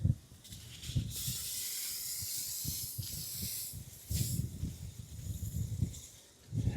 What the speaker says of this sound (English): usually takes one whole can to do this unit really good. Spray it down really good, soak it up really good